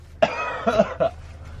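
A person coughs three times in quick succession, harsh and close, with short pauses between.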